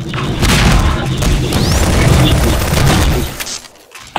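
A rocket explodes in Half-Life 2 Deathmatch, a loud booming blast that rumbles for a few seconds before tailing off, with voices and game noise around it.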